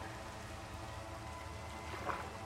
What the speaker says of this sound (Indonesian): Hujan lagi, hujan lagi.